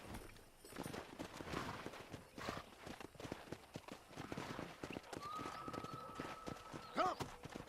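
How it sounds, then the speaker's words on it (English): Horses in the Red Dead Redemption video game, hooves clip-clopping and pounding in irregular bursts at moderate distance, with a brief whinny near the end and faint talk mixed in. "let's see if we can't wrangle some horses."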